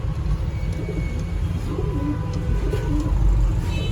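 Sialkoti pigeons softly cooing in a loft, low rolling coos repeating a few times over a constant background rumble, with faint distant bird chirps.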